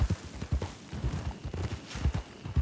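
Horse hooves clip-clop at a steady walking rhythm in a video game, moderately close, with a few soft footfall thuds and brief faint talk mixed in.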